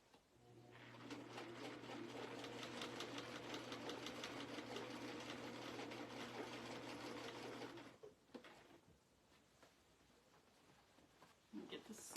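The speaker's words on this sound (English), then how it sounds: "the machine will pull it through all by itself." A sewing machine runs steadily for about eight seconds, its needle hammering in a fast, even rhythm as it draws denim through on its own, then stops, followed by quiet handling noises.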